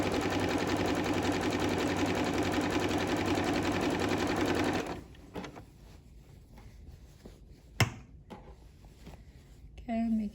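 Sewing machine stitching a zigzag seam finish, a fast steady mechanical whir for about five seconds, then it stops, followed by quiet handling clicks, a sharp knock and brief talk.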